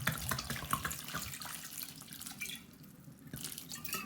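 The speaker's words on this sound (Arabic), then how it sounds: "نديروهم في شي طنجره بحال هكذا، ونديروا عليهم الماء" Water pours from a tap into a pot of eggplant, a continuous splashing, gurgling stream heard close up with a brief lull before it resumes.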